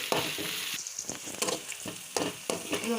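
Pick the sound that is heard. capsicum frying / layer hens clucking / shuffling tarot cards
capsicum frying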